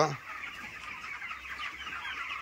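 A broiler chicken clucks and squawks near the start, followed by a continuous chatter of many 28-day-old broiler chickens clucking in the background on a farm.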